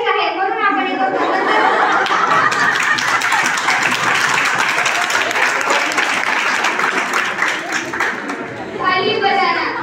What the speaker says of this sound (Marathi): जसे की तुम्ही आता टाळ्या वाजवल्या.